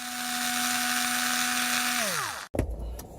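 Electric driver loosening a fastener on a 2016 Toyota Wigo automatic gear selector, a steady high whine that winds down and stops, followed by a brief clunk, close and alone.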